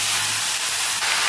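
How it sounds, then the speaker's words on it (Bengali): Potatoes frying in a pan with onion, tomato and green chilli, giving a loud, steady, broad sizzling hiss that runs without a break for just over a second, with no talking. "পেঁয়াজ, টমেটো, কাঁচা লঙ্কাটা ভালো করে ভেজে নিতে আলুটা ভালো করে ভেজে নেব।"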